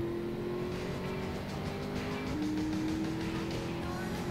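A car drives in GTA Vice City with a steady engine hum whose pitch shifts as it changes gear, over constant road noise with no talk.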